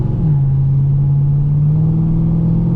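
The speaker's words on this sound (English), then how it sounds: "That truck is loud and fast." A loud, fast truck passes on a multi-lane road, a heavy, steady engine rumble and drone that stays close and strong throughout with no voices over it.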